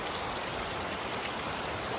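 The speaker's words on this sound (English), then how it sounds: "And this creek is up." A swollen, fast-running creek flows steadily, a continuous soft broadband rush of water close by with no breaks and no voices.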